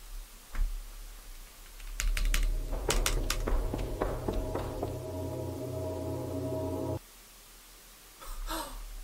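Computer keys click in a quick cluster of sharp taps over a low game hum during a horror game session, with a few more scattered clicks near the end.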